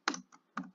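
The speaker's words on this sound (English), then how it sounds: "I will hit Enter" A single press of the Enter key on a computer keyboard: two quick, faint, close-up clacks as the key goes down and springs back, with no other sound.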